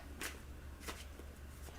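Tarot cards are shuffled by hand, giving a few soft, brief papery riffles spaced irregularly over a faint, steady background hum, with no talking.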